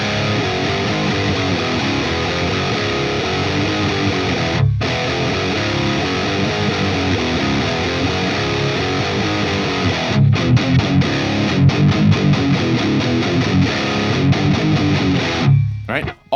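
Distorted electric guitar in drop D tuning plays a riff, a loud, dense, continuous chugging pattern with brief breaks and choppy palm-muted stabs near the end.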